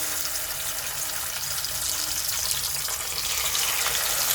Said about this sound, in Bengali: তো পাবদা মাছগুলো প্রথমে ভাজতে দিয়ে দেবো।